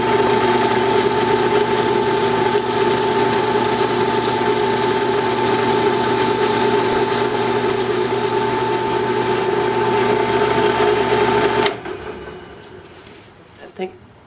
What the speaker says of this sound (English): into the chuck of the drill press. I'm going to tighten it up just a little bit. Got some 80 grit sandpaper, a block of wood,